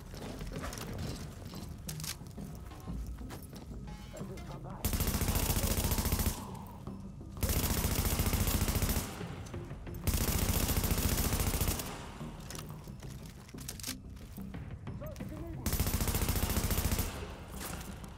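Bursts of automatic gunfire in Tom Clancy's The Division, loud sustained volleys of roughly two seconds each, repeated four times with quieter game ambience between them.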